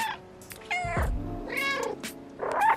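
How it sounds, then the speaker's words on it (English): A cat meows repeatedly in the PS5 video game Stray, several distinct, loud, close meows in quick succession with no talking. "a purpose-built meow button"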